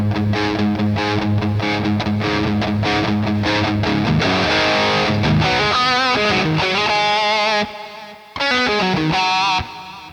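Electric guitar played through the Soldano 100 amp model of an Enya Nova Go Sonic guitar, distorted chords and riffs ringing loud and steady with a brief gap near the end, no talking.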